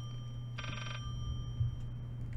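A faint, single short telephone ring from somewhere within the building in Layers of Fear, over a low steady hum.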